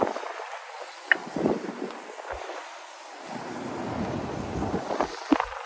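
Sharp wind gusting outdoors on a cold February winter walk through downtown Regina, a steady broadband rush buffeting the microphone with louder swells, no talk over it.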